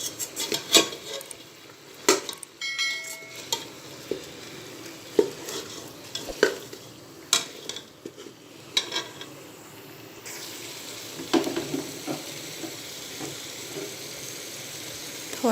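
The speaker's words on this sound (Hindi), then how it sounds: "ये सब चीज़ें डाल के हम इसको 1-2 मिनट के लिए भून लेंगे।" Masala with nihari spice for mutton nihari is stirred and fried in a pan, giving soft sizzling under repeated scraping and clinking of a spoon, fairly quiet and close, with no voices.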